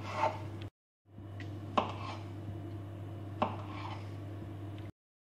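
A knife cuts through chilled, firm shortbread cookie dough logs into slices, giving a few soft, distinct chops over a low steady kitchen hum, close and quiet.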